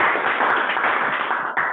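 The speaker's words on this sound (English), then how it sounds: "Can we have a round of applause for Team Kadhiwan?" A Toastmasters meeting audience gives a round of applause for a team, with brief dense clapping from a small crowd that is loud and steady throughout, tapering at the very end.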